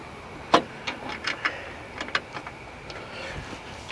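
Screws are started by hand to mount a replacement Bussmann breaker in an RV, with a run of small, close clicks and ticks at an uneven rhythm and no speech.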